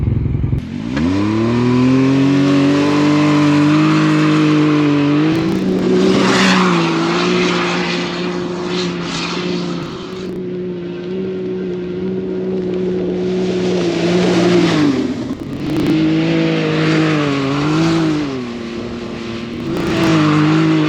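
An ATV on 33-inch ATX470 tires and System 3 SB-7 beadlock rims, aired down to 10 PSI, drives on sand dunes. Its engine is loud and close, revving up and down in long surges with brief easings between them.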